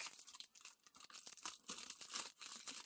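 Scissors snip and tear through the packaging of an acrylic cat-shaped kalimba, a close, busy run of crinkling, tearing plastic and paper with uneven bursts throughout and no talking.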